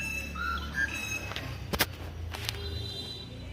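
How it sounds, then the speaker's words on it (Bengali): A bird calling unseen from a coconut tree in a home courtyard, a few short whistled chirps and a sharp squawk over a quiet background. "কি সুন্দর পাখিটার ডাকটা।"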